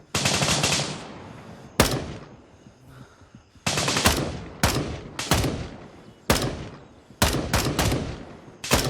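Rapid automatic gunfire in the military shooter game Gray Zone Warfare, loud and close, coming in repeated sharp bursts and single cracks separated by short pauses.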